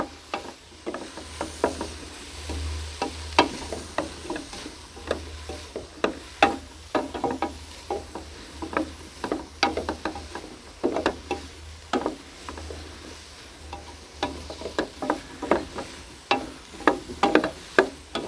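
Chopped cauliflower and sweet corn cook down in a pot for soup, giving a soft, steady sizzle broken by frequent clicking taps and scrapes of a spoon stirring against the pot, close and fairly quiet.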